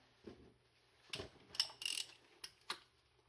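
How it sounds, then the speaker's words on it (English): Quiet, close clicks of a ratchet tightening the center nut on a Nissan 300ZX Z31 strut assembly, a handful of short, irregular ratcheting bursts separated by pauses. "And then you want to go ahead and tighten up the center nut."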